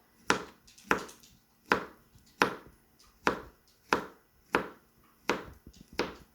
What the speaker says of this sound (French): Je vais la couper en morceaux.